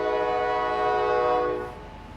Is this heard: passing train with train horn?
yes